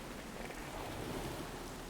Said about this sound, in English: How's the rain not washed away this blood?